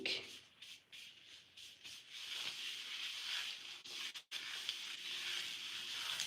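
Hair product is rubbed and squeezed through sections of hair, giving soft, close, steady rubbing and squishing sounds with brief pauses.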